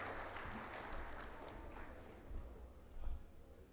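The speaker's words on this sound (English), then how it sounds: "round of applause for the Minister as a token of appreciation for attending the function" Audience at an awards night in Colombo applauding the Minister of Power and Energy, a soft, distant patter of many hands clapping, fairly faint and muffled, with some low rumble.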